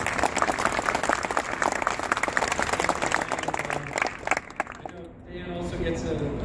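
Audience applause at a St. Louis Cardinals charity grant presentation ceremony, steady clapping from a crowd for several seconds that thins and fades out toward the end.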